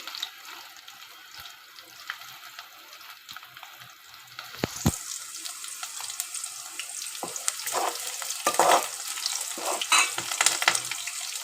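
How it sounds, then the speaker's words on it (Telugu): Onions frying in oil with fenugreek seeds start as a quiet low sizzle, then swell into a louder, busier crackling fry with stirring scrapes over the second half. "ఉల్లిగడ్డ ఎర్రగా వేగిపోవాలి"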